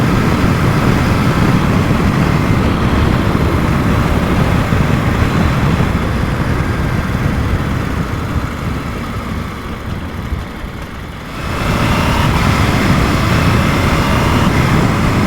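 A motorcycle engine growls in a loud, steady drone that runs almost unbroken, easing off briefly before swelling back to full strength.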